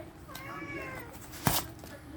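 A short, quiet cat meow rises and falls over a soft background, followed by a brief sharp knock.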